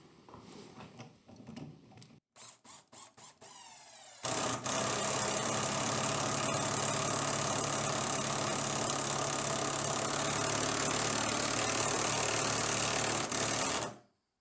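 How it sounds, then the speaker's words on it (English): A few short bursts, then an impact driver hammers continuously driving a screw into wood with a rapid rattling clatter for about ten seconds, loud and close. "Now the impact driver."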